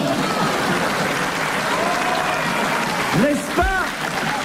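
Applause ripples through a French television studio audience, steady and fairly loud, while voices talk over it and one rises in a brief exclamation near the end.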